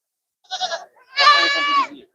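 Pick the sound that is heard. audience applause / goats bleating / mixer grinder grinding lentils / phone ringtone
goats bleating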